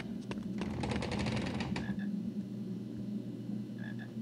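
A frog in the PC game Harry Potter and the Sorcerer's Stone gives a rapid rattling croak lasting about a second and a half, followed by a few faint short chirps.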